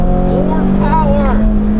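Toyota 86 at full throttle on an autocross run, engine droning loud and close with rising and falling pitch and possible tire noise, steady for the whole moment.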